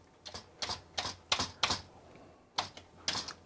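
Worn Commodore 64 keyboard, cleaned and being tested, pressed in a few quick bursts of sharp plastic key clacks with short pauses, close and clear with no talking.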